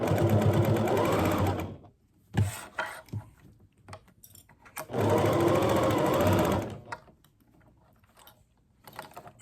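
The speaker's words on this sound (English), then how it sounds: "I'm gonna hold my finger down here to make sure all of the elastic gets held in as I stitch down." A sewing machine stitches elastic onto a fabric mask in two loud, fast-whirring bursts of about two seconds each, with soft clicks and handling noises in the pauses between.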